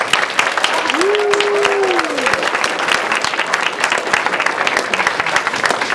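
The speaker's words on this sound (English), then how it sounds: "Can we just give these guys one more round of applause?" An audience at a community theater production of a Seussical parody gives a round of applause after the show, loud, close and continuous, with a brief whoop rising above the clapping.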